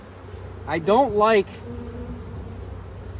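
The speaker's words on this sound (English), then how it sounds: "There's a bee coming out right there, chewing its way out." Honeybees buzz faintly and steadily around a hive frame of drone brood while a person speaks briefly over the low, close insect hum.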